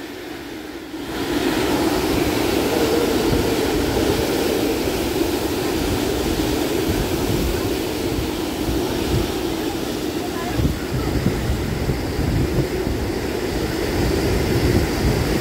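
Super Typhoon Uwan's powerful wind on a mountain, a continuous loud roar that surges in after a brief quieter start and holds steady with gusty fluctuations.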